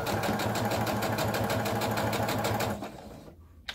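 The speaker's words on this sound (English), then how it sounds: "And I have a habit of backstitching." A sewing machine stitches fabric for a dog bandana, a fast, even mechanical chatter running close and loud for nearly three seconds, then slowing and stopping as it backstitches, with a brief click at the end.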